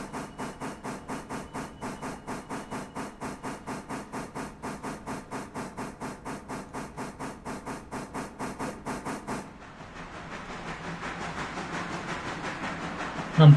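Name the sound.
train moving on tracks in the video game Railroader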